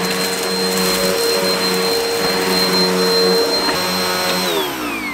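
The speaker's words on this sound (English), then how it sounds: "and we hoover the van." A Hoover vacuum cleaner, powered from a Jackery Explorer 1000 portable battery, runs steadily while cleaning inside a van, a loud continuous whine and roar with a brief shift in pitch near the end.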